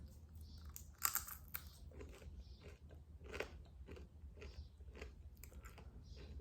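Homemade dehydrated jerky being bitten and chewed close up, with a sharp crunchy bite followed by steady, irregular chewing crunches and crackles over quiet background hum.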